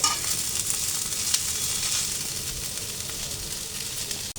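Continuous hissing sizzle of moringa leaves frying in a pan, fairly steady with a couple of faint scrapes, no talking.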